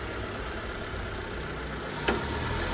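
The air conditioning runs in a Mitsubishi Lancer Cedia with a 4G18 engine that sputters and lacks power. The idling engine and blower make a steady hum, with a single sharp click near the end and no voices.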